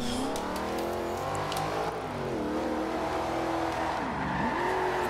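A drifting car in the Forza Horizon 2 video game: a loud, continuous engine whine with sweeping pitch changes as it revs and slides, accompanied by tyre squeal throughout.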